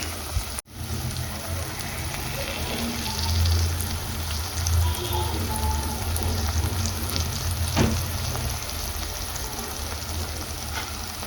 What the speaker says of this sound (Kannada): ಸೊ ಇವಾಗ ಸ್ವಲ್ಪ ಲೋ ಫ್ಲೇಮಲ್ಲಿ ಚೆನ್ನಾಗಿ ಫ್ರೈ ಆಗ್ಲಿಕ್ಕೆ ಬಿಡೋಣ